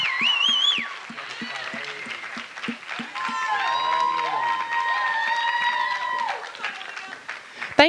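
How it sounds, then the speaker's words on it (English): An audience applauds as contestants line up on stage at a talent showcase. The clapping stays steady and moderately loud under a dense layer of voices and music tones. "Don't we need to give them one more round of applause?"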